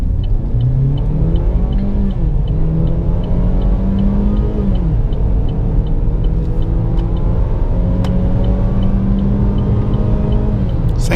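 A Chevrolet Tracker LT's 1.8-litre 16-valve engine with a six-speed automatic transmission pulls hard, its drone rising then dropping at each gear change, loud and continuous with no talking.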